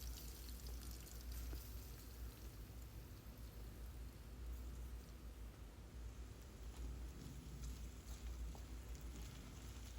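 Marinated chicken pieces fry in hot oil for chicken fried rice, giving a steady, dense crackling hiss that runs the whole time at an even level, with no voices.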